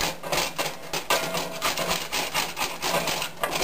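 A wooden spatula scrapes cooked-on bacon from a cast iron pan in quick, repeated rasping strokes, close and fairly loud, with no talking.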